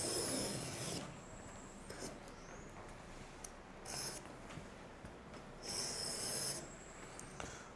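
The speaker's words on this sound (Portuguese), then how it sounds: "Vou cortar ao redor aqui da minha modelagem." Cutting around a paper sewing pattern: close, dry rasping and rubbing strokes come in a few bursts, loudest near the start and again toward the end, with quiet gaps between and no voices.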